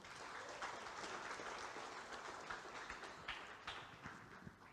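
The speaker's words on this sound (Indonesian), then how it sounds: "Bapak Ibu boleh kasih aplaus sekali lagi." A formal audience at a handover ceremony for Indonesian election commission (KPU RI) members claps steadily, with dense, sustained applause filling the hall and no speech over it.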